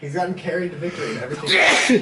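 A man lets out a sharp, loud sneeze near the end of the moment, amid casual conversation between friends at a gaming house.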